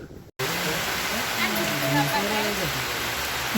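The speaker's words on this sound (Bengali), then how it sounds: "প্রচন্ড বৃষ্টি। আমরা এখানে এসে গেছি বৃষ্টিতে।" Heavy rain pouring down at an outdoor safari park, a loud steady roaring hiss close by, with people talking over it throughout after a brief silent break near the start.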